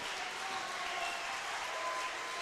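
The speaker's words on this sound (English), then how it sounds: "The crowd give him a well-deserved round of applause" Spectators at the Australian Bouldering Championship applaud a climber, a dense, even wash of clapping heard at moderate distance without letting up.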